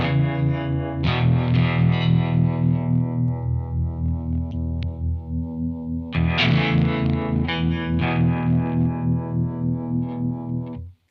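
Electric guitar played through a harmonic tremolo pedal, either a Keeley Hydra or a Strymon Flint, sustained chords swelling and pulsing in a steady wavering rhythm, loud and close with no talking, the chords restruck partway through.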